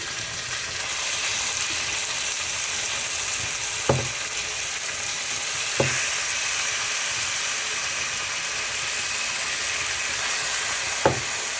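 Goat meat (mutton) frying in a pan for a Jamai Shashthi meal, a loud steady sizzle and steam hiss with a few clanks as it is stirred, and no talking.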